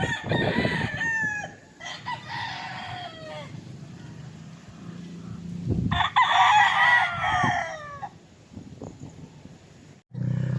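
Several brassback gamefowl roosters crow loudly and nearby, with overlapping long calls near the start and another strong crow around the middle, plus scattered clucks and farmyard noise between them.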